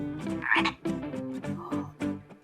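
A frog croaks in a rapid run of short, loud, raspy bursts close by, with no talk over them.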